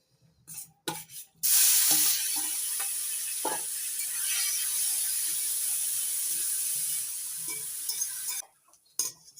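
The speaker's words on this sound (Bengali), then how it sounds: "চিংড়ি মাছগুলো উল্টে পাল্টে নাড়াচাড়া করে ভেজে নিয়েছি" Shrimp frying in mustard oil in a wok, a loud continuous sizzle that starts abruptly and runs for several seconds, punctuated by spatula scrapes and clinks, with quiet gaps at the start and end.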